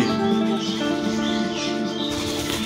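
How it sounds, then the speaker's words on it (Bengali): Wings flap as a dove is trapped indoors inside a house. The fluttering is close and continuous over a steady tonal hum, with no talk. "বন্ধুরা ঘরের মধ্যে ঘুঘু চলে এসছে।"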